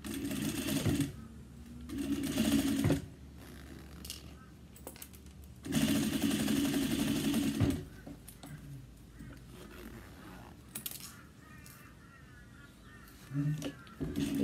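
A sewing machine stitches panels of a daypack bag in two loud bursts of rapid, even stitching, with quieter handling noises and brief voice sounds in the gaps between runs.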